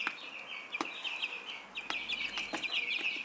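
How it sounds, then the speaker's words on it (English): A young blue laced rooster chick clucks and peeps in sharp, scattered calls over a steady background hum inside a greenhouse used for rearing chicks. "It's probably a rooster."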